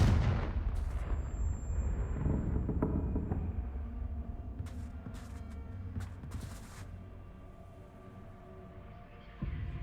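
A Confringo spell blast explodes in a Harry Potter video game with a loud, deep rumbling boom that decays slowly into a low roar, followed by a few sharper crackles.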